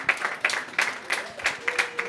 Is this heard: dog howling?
no